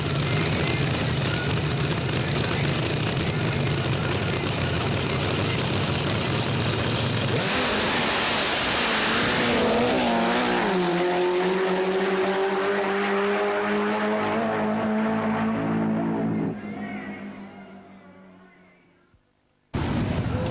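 Loud, close motorcycle engines at Daytona Bike Week drag racing, with a steady heavy drone that surges into a roaring rev and then dies away gradually before cutting off near the end.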